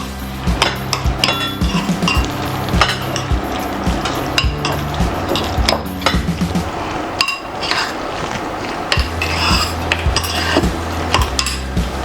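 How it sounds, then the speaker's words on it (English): A utensil scrapes and clinks against a pan as butter is stirred while stuffed chicken breast cooks. The taps are steady and close, over a faint sizzle and a low hum. "We add 1 teaspoon of butter, and then we stir."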